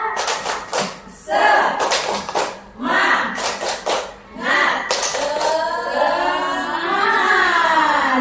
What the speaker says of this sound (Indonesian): tepuk semangat dulu dong. Ya, 1, 2, ya, tepuk semangat